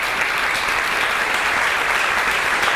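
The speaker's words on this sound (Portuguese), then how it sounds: "Uma salva de palmas." Audience applause at a Sesc health program meeting in 2019, steady dense clapping from a large crowd filling the whole stretch at constant loudness with no voices over it.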